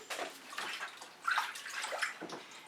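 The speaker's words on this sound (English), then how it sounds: "I am going to have to rinse my fingers off though" Fingers rinsed under a running tap after fluid acrylic paint pouring, a close, broadband splashing water sound with uneven surges, no talking.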